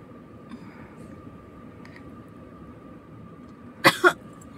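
Two quick coughs break out close by near the end, after a stretch of quiet background hum with faint distant noise.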